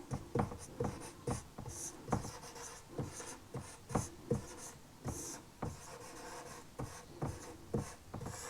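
Chalk tapping and scratching on a classroom board as words are written, quick irregular clicks and short strokes in bursts, close and fairly quiet with no talk.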